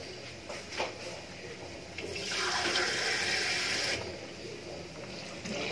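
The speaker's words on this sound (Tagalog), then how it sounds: "lagyan natin ng isang basong tubig." A glass of water is poured into a cooking pot of chicken feet adobo with black vinegar, a soft hissing splash lasting about two seconds amid quiet kitchen noise.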